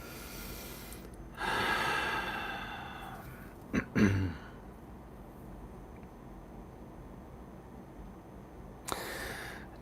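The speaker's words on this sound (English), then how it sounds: "Take a big deep breath." A deep breath during guided evening meditation: one long, audible inhale and exhale, followed by a brief snort or throat sound and then a quieter breath later on, in a hushed room with no talking.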